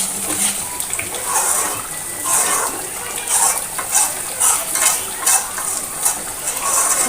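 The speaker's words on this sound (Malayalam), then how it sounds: "അപ്പൊ നമ്മുടെ തീയല് ദേ ഇവിടെ നല്ല തിളച്ച് നല്ല" An eggplant theeyal curry bubbles and simmers in a pot, a steady wet sizzling and stirring texture with soft scraping pulses recurring throughout, close and fairly loud, with no talk.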